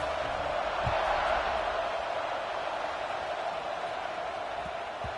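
Stadium crowd in an NCAA football video game makes a steady, broad roar of noise that swells slightly near the start and then holds, with a few faint thuds underneath.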